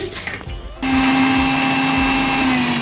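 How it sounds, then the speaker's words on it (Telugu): A mixer grinder starts up and runs loudly with a steady motor whine, blending tomatoes and green chillies after a brief rattle of handling. "మనం ఇవన్నీ కూడా మిక్సీలో వేసేసుకోవాలండి"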